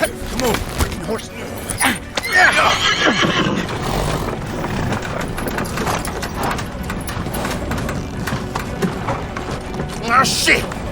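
A horse whinnies loudly amid clattering hooves and busy mechanical noise, with voices talking over the commotion throughout, in an audio drama.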